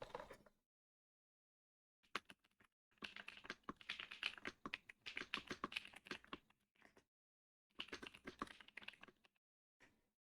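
Bursts of rapid clicking keystrokes on a computer keyboard, close and fairly quiet, coming in several runs separated by pauses, with no talking.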